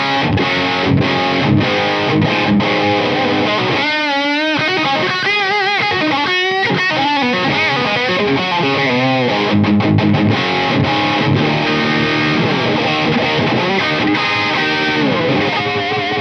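Heavily distorted electric guitar through the dirty channel of a Boss Katana amp with a clean boost pedal, playing chords and bending lead phrases, loud and sustained, with no voices.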